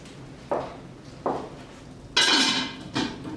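Metal pot lid clanking onto a cooking pot set over hearth coals, several sharp ringing knocks, two shorter taps, then a louder scraping clatter and a final clank, close and clear.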